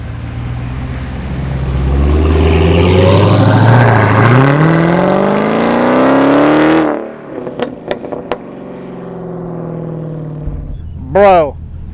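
A Dodge Challenger Hellcat roars as it accelerates hard, a loud rising engine howl that climbs for several seconds, then cuts to a rumbling idle with a few sharp pops and a brief rev near the end.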